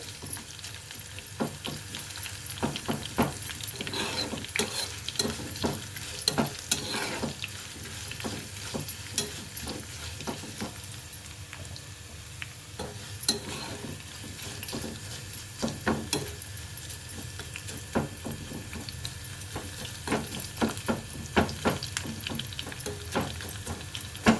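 Grated raw mango is stirred in a hot pan for a spicy ginger chutney, giving a continuous close sizzle and frying hiss broken by frequent scraping stirs.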